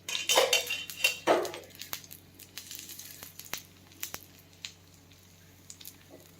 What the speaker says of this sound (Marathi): असा तवा हलवायचा तेल टाकल्यावर.